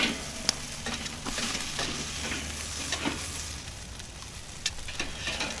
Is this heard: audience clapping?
no